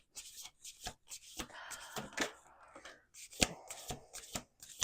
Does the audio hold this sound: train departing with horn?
no